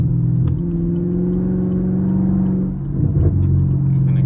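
Chevrolet Camaro SS V8 engine revving steadily while driving down a hill in the rain, a loud, close, throaty drone that rises and settles, with brief clicks and a slight dip near the end.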